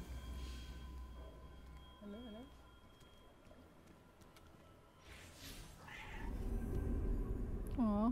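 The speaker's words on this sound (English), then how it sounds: "does it even make a cat sound? Yeah, it goes meow." Cat meowing in the video game Destiny 2, with a few short rising meows around the middle and a louder, clearer meow near the end, set over a steady game ambience.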